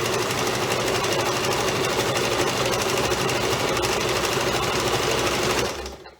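A sewing machine runs a zigzag stitch back and forth in one continuous, loud, close mechanical whir with a fast rapid rhythm, stopping abruptly at the end.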